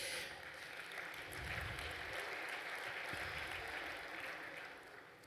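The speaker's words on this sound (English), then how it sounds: "Thank you for that applause." Audience applause in a live talk or masterclass setting, a faint, steady wash of clapping from a crowd that holds for a few seconds and then fades slightly.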